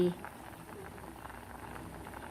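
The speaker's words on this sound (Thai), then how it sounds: "มันฝรั่งของเราหั่นนะคะ ชิ้นมันเล็ก เราไม่ต้องต้มนานนะคะต้มประมาณ5-7นาทีก็พอนะคะ" Small cut potato pieces boiling in a pot of water make a steady, soft bubbling hiss that is continuous and close, with no talking.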